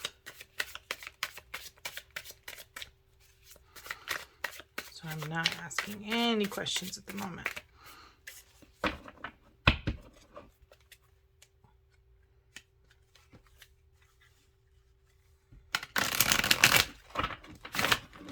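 Rapid riffling of a Revelations card deck being shuffled, crisp bursts of papery flutter, with a person talking quietly between shuffles.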